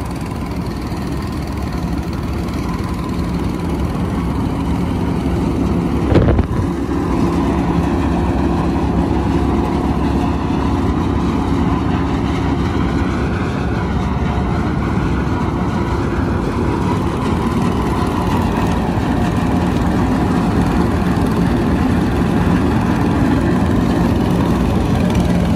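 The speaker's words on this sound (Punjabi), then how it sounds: "ਛੋਟਾ ਟਰੈਕਟਰ ਖੁਦ ਬਣਾਇਆ ਗਿਆ" A small homemade welded tractor engine runs steadily at close range, a loud continuous low rumbling drone with one brief knock partway through.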